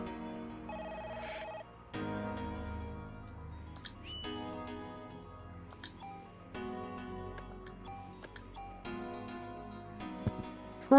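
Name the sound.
telephone ringing in the video game Parasite Eve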